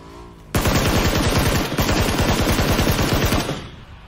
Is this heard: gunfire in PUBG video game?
yes